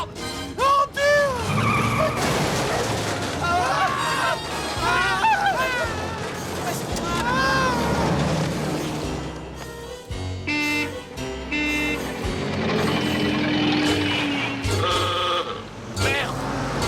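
Tires squeal and skid as cars race through a film car chase set in Harlem, engines roaring between screeches while people shout loudly throughout.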